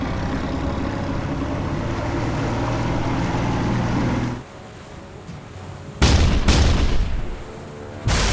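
Forward 5-inch naval guns on a warship firing in a sci-fi action movie about an alien invasion, loud boom bursts near the end cutting in after a steady engine-and-water rumble, with two close heavy blasts.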